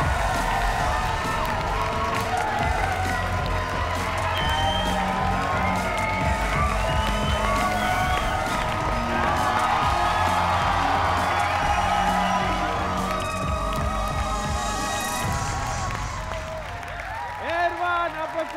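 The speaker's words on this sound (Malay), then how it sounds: "Berikan tepukan untuk Khalaf dan juga Erwan." A game-show studio audience applauds and cheers continuously, dense clapping with whoops and shouts under music, loud and sustained throughout before easing slightly at the end.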